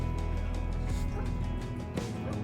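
Two big dogs bark in scattered bursts at a distance in Lancaster County, Pennsylvania farm country, partly under a steady mechanical hum, with a few sharper yips standing out.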